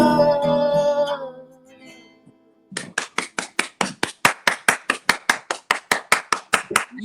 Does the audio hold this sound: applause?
yes